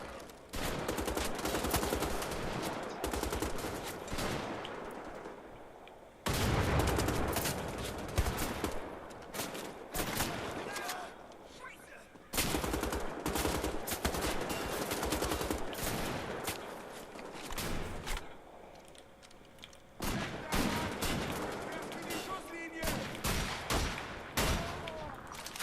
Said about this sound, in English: I see you are also throwing grenades.